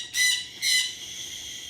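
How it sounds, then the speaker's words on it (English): A pet bird close by lets out two loud, harsh squawks in quick succession, followed by a quieter room with no talk. "Sorry, I have a very loud bird."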